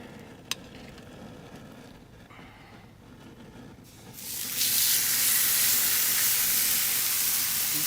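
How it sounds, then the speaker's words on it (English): Food laid on a grill bursts into loud, steady sizzling partway through, following a quieter stretch of low background rumble with a faint click near the start. "that's sizzling away rather nicely"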